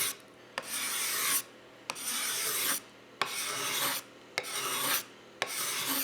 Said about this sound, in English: I'm just taking those lines out. And the card scraper is great for that.